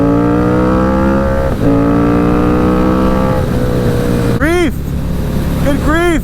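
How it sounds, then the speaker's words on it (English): Wind buffets a rider on a moving motorcycle, a loud, constant roar blended with the bike's droning engine, whose pitch dips and climbs as it revs, close and continuous throughout. "Come on, wind!"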